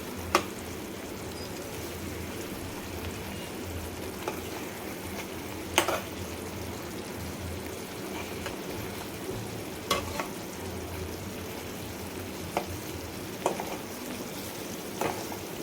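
Stuffed brinjal frying in a pan, a steady low sizzle and bubbling with sharp clinks and scrapes recurring every few seconds as the pieces are turned over.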